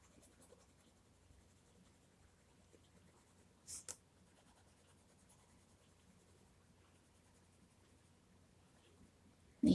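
Colored pencil shading brighter yellow onto paper, a soft continuous scratchy rasp close up and faint, with a couple of brief louder clicks partway through and no talking.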